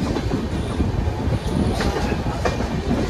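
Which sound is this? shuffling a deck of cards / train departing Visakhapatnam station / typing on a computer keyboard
train departing Visakhapatnam station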